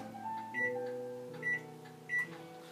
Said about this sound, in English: So I'm going to just pop this into a microwave for about